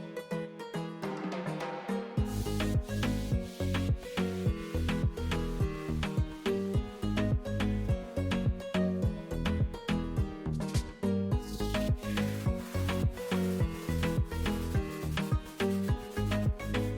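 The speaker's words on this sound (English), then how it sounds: "so I continue wiping it until I know for sure it's nice and clear" Firm, rhythmic rubbing strokes wipe a surface clean, close and repeated many times in an even back-and-forth pattern, with no talking.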